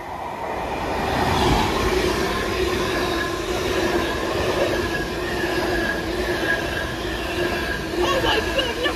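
A train in Battle of Britain livery passes through Welwyn North station, a loud steady rumble of wheels and rail noise with squealing tones throughout and a brighter screech near the end, while voices exclaim faintly over it.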